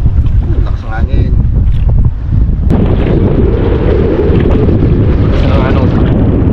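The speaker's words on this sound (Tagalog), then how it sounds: "Ang hangin. Doon sa lakas ng hangin." Strong wind at sea roaring across the microphone from aboard a small boat, a loud continuous rush with gusty surges, and voices talking under it.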